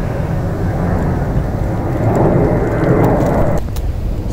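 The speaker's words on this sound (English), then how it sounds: "Sorry, waiting for that plane to go by." An airplane passes overhead outdoors in a garden, a loud, broad, steady roar that swells slightly midway and then eases, with faint clicks near the end and no voices.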